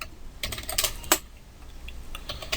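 Java code is typed on a computer keyboard in quick, irregular bursts of close key clicks with one sharper stroke midway, over a faint steady hum and no talking.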